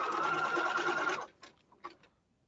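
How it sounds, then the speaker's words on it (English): A sewing machine runs in a fast steady whir for about a second, then stops, followed by a few faint clicks. "put a sewing machine stitch 1 inch down from the top"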